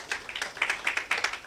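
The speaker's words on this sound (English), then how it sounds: "Shall we give him a round of applause?" Brief applause at an antiretroviral treatment media launch, a quick burst of fairly close claps from a small group that lasts only a moment.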